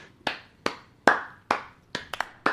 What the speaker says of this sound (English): that simple clapping you hear in the background means it's time for the meh of the week